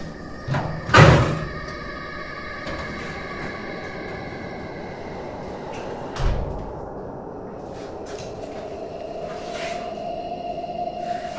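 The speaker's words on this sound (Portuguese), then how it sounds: "Eu fechei a porta abriu." A door in the horror video game Red Brick thumps shut with a sharp knock, then a second softer bang follows some seconds later, over a low steady hum.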